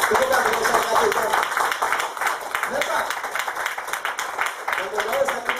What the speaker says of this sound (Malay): Tepukan kepada syarikat itu.